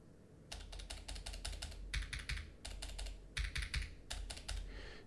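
A loud mechanical keyboard is typed on in close, rapid bursts of clacking keystrokes, with short pauses between the flurries.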